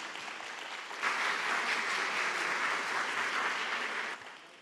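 A church congregation breaks into steady applause that swells after a quieter start, holds evenly for a few seconds, then fades away.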